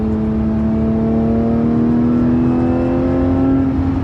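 A Porsche 997.2 GT3 RS flat-six engine pulls loudly and steadily from inside the car, its droning tone rising gradually as the car accelerates.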